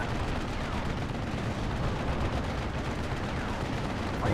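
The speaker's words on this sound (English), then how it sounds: "That's a lot of bombs coming down onto those airborne leaders." Artillery shells rain down in the World War II strategy game Steel Division: Normandy 44, a continuous roar of overlapping explosions and gunfire with no break, loud and dense throughout.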